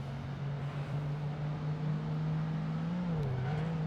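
A racing car in Project Gotham Racing 2 holds a steady, droning engine note that rises and dips slightly as it accelerates during an online multiplayer race, loud and continuous with no talk over it.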